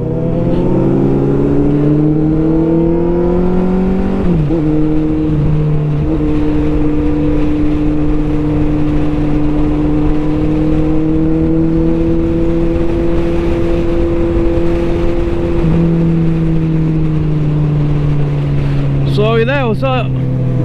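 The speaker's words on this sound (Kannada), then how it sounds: "BMW S1000RR, ಆಕ್ರ ಎಕ್ಸಾಸ್ಟು, ಸಿಕ್ಕಾಪಟ್ಟೆ ಲೌಡ್ ಇದೆ ಗಾಡಿ" A BMW S1000RR superbike fitted with an Akrapovic exhaust roars loudly and close up on a group ride, holding a steady high engine drone with shifting pitch and a brief rev near the end, while a rider talks over it.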